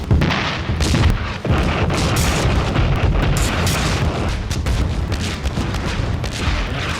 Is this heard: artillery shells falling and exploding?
yes